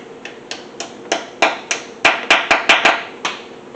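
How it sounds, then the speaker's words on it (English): Steel alignment dowels hammered into an iron engine block: a dozen sharp metallic strikes in an uneven rhythm, close and loud, growing denser toward the end as the pitch of the taps shifts. "Now let's put in the alignment dowels."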